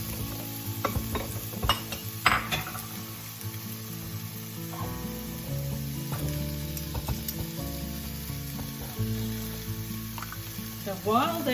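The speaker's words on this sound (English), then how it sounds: "I'm going to put them in the pan and saute them" Calamari sauté in a hot pan with a steady, close sizzle, while a utensil stirs and scrapes through the pieces and knocks against the pan now and then.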